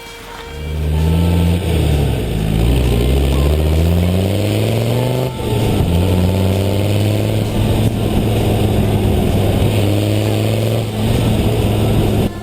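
A 1999 Land Rover Defender Td5 diesel with a straight-through exhaust idles and revs loudly and close by, its low rumble rising and falling through several steady throttle blips.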